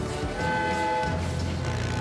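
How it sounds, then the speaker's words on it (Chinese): A cartoon train from PAW Patrol approaches with a loud, sustained horn over a rumbling rolling-stock roar, heard close and filling the short moment without speech. "原来火车朝小曼开过去了"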